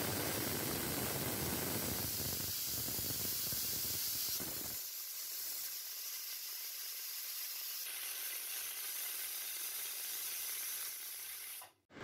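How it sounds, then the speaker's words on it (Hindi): A pressure cooker lets off a steady hiss of escaping steam, loud and broadband, fading into a thinner, quieter hiss that runs on until it cuts off abruptly. "अब हम लगा देंगे कुकर का ढक्कन और इसे 4 सीटी लगने तक"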